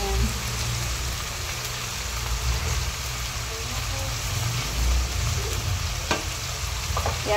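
Pork adobo stirred in a pan sizzles with a steady, rain-like frying hiss. A few soft clicks of a utensil against the pan sound near the end.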